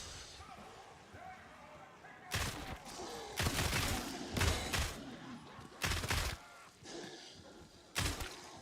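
Gunfire in a shooter video game, several loud, clipped bursts breaking through a steady background, spaced a second or two apart, with a voice talking at times.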